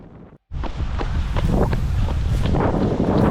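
Wind buffets the microphone of a runner out on a marathon training run, a loud, constant roaring rumble with gusty surges that sets in abruptly after a brief drop-out and carries on to the end.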